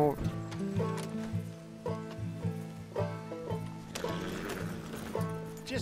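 A horse in the video game Red Dead Redemption II, with clip-clopping hooves and a whinny under layered music and game sounds, heard moderately loud throughout.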